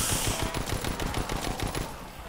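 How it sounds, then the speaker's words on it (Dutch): Rapid automatic weapon fire in The Last of Us Part II, a loud close burst of fast repeating shots that thins out toward the end. "Also Colin schiet om zich heen met dit wapen."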